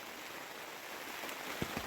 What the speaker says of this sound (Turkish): Yağmur yağıyor. Sesini duyuyorsunuz herhalde.